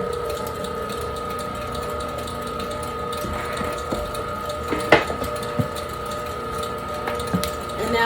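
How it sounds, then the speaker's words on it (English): A steady popcorn kettle stirring motor hums and whirs continuously, with occasional clicks and clanks from the machinery turning, heat switched off. "we're gonna turn the heat off and turn the motor on"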